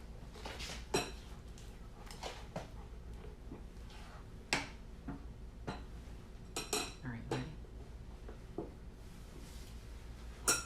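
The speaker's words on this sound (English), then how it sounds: "I'm just gonna push this right through the strainer here" Banana pudding is pushed through a kitchen strainer, a series of irregular metallic clinks and scrapes of utensil against mesh and bowl, close and fairly quiet.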